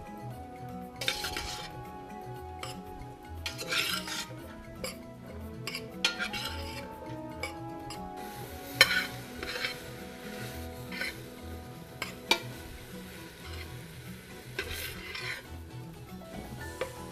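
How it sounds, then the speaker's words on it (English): Leeks frying in a pan over turned-up heat, with a utensil scraping and clinking against the pan as they are stirred; intermittent metallic clinks over a steady low sizzle, close by and moderately quiet, no talking. "So we're going to turn up the heat. And get these leeks going."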